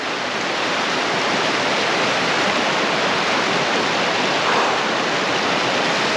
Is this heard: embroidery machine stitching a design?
no